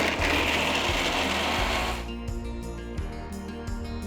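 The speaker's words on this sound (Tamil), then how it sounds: "மாற்றிட்டு முதல்ல தண்ணி ஊற்றாமல் அரைங்க." A mixer grinder grinds soaked chillies without water, roaring loudly for about two seconds, then spins down into a rattling, clicking whir as the blades slow.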